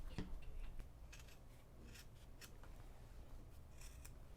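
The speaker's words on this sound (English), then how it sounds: "I'm going to cut all along this black border. And I've got my big chunky scissors so I can do it nice and quick." Big chunky scissors snip through fabric along a black border of a sashiko embroidery piece, a run of quick, crisp, close cuts with soft rubbing between blades.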